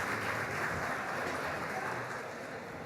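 Distant, diffuse applause from a luncheon audience, a soft continuous hiss of many hands with no break, fairly faint and even throughout.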